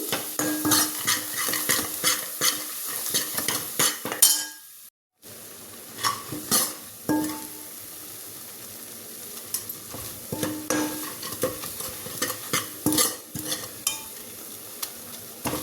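Masala spices fry in a pan for a tomato and potato curry, a dense crackling sizzle with frequent scraping stirs and utensil clinks, briefly cutting out before the stirring resumes, loud and close.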